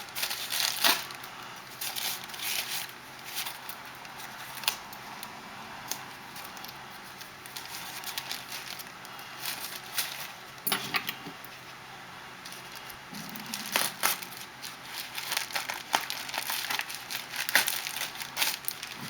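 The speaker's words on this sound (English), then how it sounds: "So I'm gonna peel that off." A shipping label being peeled off a package during an unboxing, heard up close as a long run of crinkling, crackling tearing noises in uneven bursts with brief pauses, and no talking.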